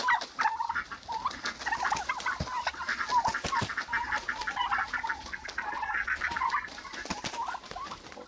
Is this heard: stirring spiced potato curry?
no